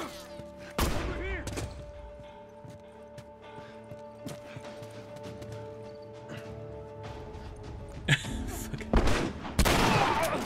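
Gunfire in The Last of Us Remastered, a few sharp loud shots spaced apart amid game ambience and music tones, with a burst of impacts near the end.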